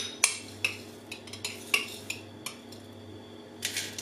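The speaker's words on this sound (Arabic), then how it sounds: "هنا غناخد معلقه ديال زرع الكتان" A metal spoon clinks and scrapes against a container while scooping flax seeds in a home kitchen, a series of sharp, close taps spread over a few seconds with no talking.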